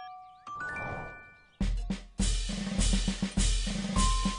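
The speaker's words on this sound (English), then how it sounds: "took a glass of water and a spoon and created a tinkling chime" A spoon taps a glass of water in a cartoon scene, making bright tinkling chime notes: a few ringing tones, then a quick series of clinking strikes that sound close and clear.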